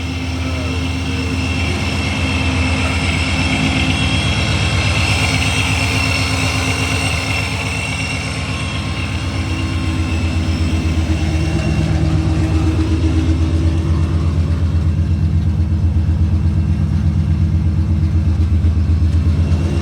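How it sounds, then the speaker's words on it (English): A Ford 5.0 V8 fitted with a ProCharger supercharger idles steadily after its first startup, a loud, close, low rumbling drone with a faint high whine, continuous for about twenty seconds. "Okay guys, there you have it, first startup."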